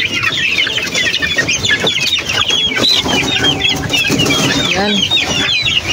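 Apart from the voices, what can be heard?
chickens clucking excitedly at feeding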